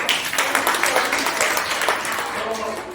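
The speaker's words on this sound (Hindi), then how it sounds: "जोरदार ताली भी बजा दें" A gathering at a domestic women workers' union election meeting breaks into sustained applause, dense and steady for about three seconds, with voices mixed in.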